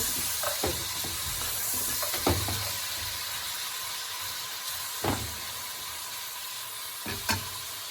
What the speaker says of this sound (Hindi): अब इसे थोड़ी देर के लिए 2-3 मिनट के लिए इसे ऑयल में ब्राउन करेंगे इस तरह से